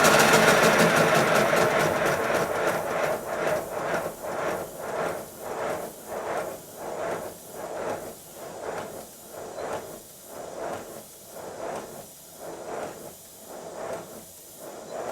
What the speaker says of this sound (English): Here's my very small and very quiet compressor.